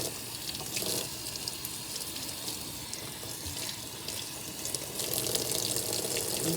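Tap water runs steadily over a scaled salmon fillet in a sink, a soft continuous splashing rush with no talk, growing a little louder toward the end.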